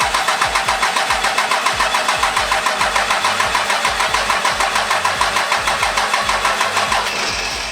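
A Cummins diesel truck engine cranks with a fast, even, rhythmic chugging that holds steady and loud up close for several seconds, with no one speaking.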